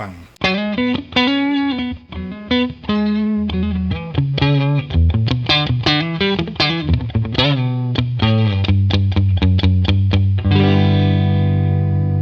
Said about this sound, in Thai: เสียงปิกอัพอะครับมีกลิ่นสแตทค่อนข้างที่จะเยอะ